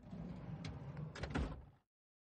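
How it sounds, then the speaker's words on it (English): A car's passenger side door opens in the Steins;Gate 0 visual novel: a short mechanical clunk and latch rattle over a low rumble, with a louder thud near the end before the sound cuts to silence. "Yama sighed and opened the passenger side door."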